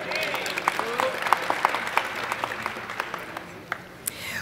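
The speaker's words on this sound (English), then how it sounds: "Go ahead, clap for yourselves" An audience at a welcome reception in an auditorium claps steadily for a few seconds, a continuous wash of many hands with a few sharper individual claps standing out.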